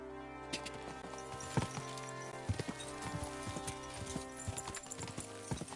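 Horse hooves clip-clop at an irregular walking pace over a steady background hum in the video game Kingdom Come: Deliverance II, fairly quiet, with occasional sharper hoof strikes.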